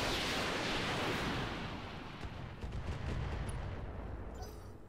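Heavy gunfire in a video game hits as a dense, rumbling roar of shots and blasts that swells at first and then slowly tapers off, loud and continuous with no speech over it.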